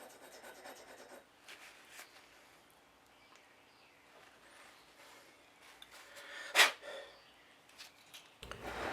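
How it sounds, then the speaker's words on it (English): Sandpaper is rubbed by hand over hand-cut wooden threads, giving soft, steady rasping strokes at close range, with one sharper scrape near the end. "I need to get a slipstone, but sandpaper will do the job."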